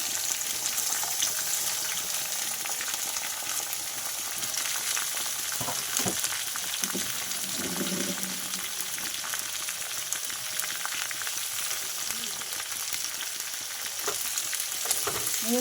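Capsicum and onion fry in a pan with a constant crackling sizzle, close up, broken by occasional scraping and stirring sounds.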